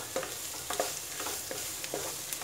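Onions and curry leaves fry in a pan for an ivy gourd (tindora) fry, giving a steady close sizzle broken by about five soft, evenly spaced spatula scrapes.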